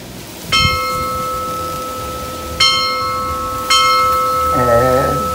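An old bell on a historic coffee farm is struck three times, each clang ringing out loud and close with a long sustained tone overlapping the next, and someone briefly talks at the end.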